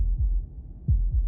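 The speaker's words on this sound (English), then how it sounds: "That was the sound of a heartbeat" Slow heartbeat thuds from the video game Slay The Princess, a few deep, close pulses in a lub-dub rhythm with nothing else over them.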